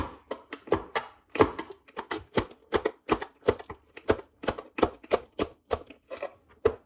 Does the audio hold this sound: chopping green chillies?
yes